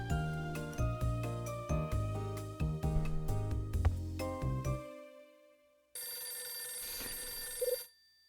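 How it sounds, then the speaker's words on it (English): A telephone rings in the Nintendo DS game Hotel Dusk: Room 215, a bright electronic ringtone repeating in quick tinkling bursts over a chiming musical melody, then a sustained buzzing electronic tone takes over near the end. "Phone's ringing."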